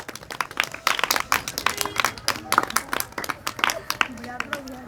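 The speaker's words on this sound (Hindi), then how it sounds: "एक बार तालियां बजा दो इस बच्ची के लिए।" A school class claps for a girl, uneven bursts of hand claps from several children, close and lively, with a voice speaking over them.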